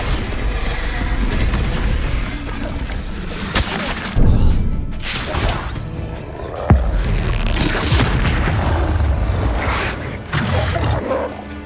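Heavy booming blasts from the Bombarda spell in the video game Hogwarts Legacy, loud impacts with crashing debris that roll continuously over a rumbling battle bed, with sharp hits near the four- and seven-second marks.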